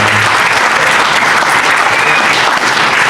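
Sustained audience applause at an auto-cross club general meeting in Badefols-d'Ans, loud and dense clapping filling the whole stretch without pause.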